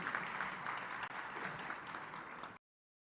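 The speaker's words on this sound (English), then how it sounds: "A big round of applause for our ladies," An audience at a university graduation ceremony breaks into a dense, steady round of applause. The clapping fills the hall for a couple of seconds, then cuts off abruptly into silence.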